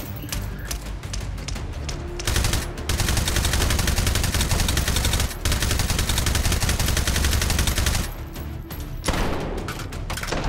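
Continuous loud gunfire fills a VR shooter game, H3VR, with rapid automatic bursts and overlapping shots from AK-12 style rifles, nearly unbroken throughout, with no voices.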